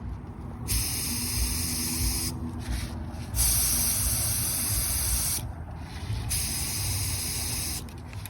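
Bursts of a spray gun hissing steadily as clear coat goes onto a 1988 Honda CRX engine bay, each pass lasting a couple of seconds with short pauses between, close and fairly loud over a low background rumble.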